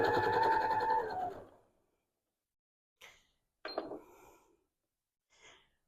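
A sewing machine runs briefly while straight-line quilting a beginner star quilt, then stops; a few short mechanical clicks and taps follow in near silence.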